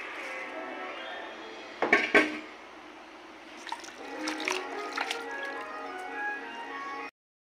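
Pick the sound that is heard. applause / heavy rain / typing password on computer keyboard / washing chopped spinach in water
washing chopped spinach in water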